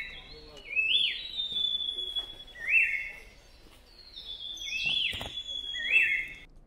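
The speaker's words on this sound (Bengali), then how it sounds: "কি মিষ্টি পাখির ডাক শুনলে," Several birds sing in clear, sweet whistled phrases at a Darjeeling hilltop viewpoint facing Kanchenjunga, repeated calls rising and falling close by over a quiet outdoor background.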